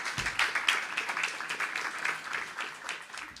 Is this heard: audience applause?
yes